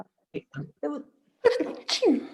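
A person sneezes twice near the end, two sharp loud bursts following a few brief spoken words in a quiet room.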